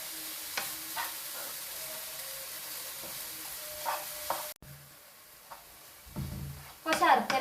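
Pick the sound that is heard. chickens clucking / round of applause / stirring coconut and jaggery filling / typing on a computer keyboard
stirring coconut and jaggery filling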